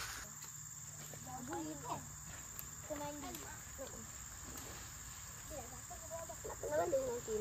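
Chickens clucking near a garden fishing spot, several short calls scattered through the moment, fairly faint, over a steady background of chirping crickets and insects, with some indistinct talk.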